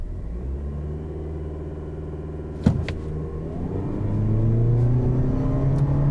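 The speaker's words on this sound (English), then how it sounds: "let's go ahead and see what we can get 0 to 60 wise in this car." A 2023 Toyota Prius Limited AWD hybrid sedan, braked and held, launches into a 0 to 60 run, its steady rumble and whir rising in pitch as it accelerates, heard from inside the cabin after a brief click.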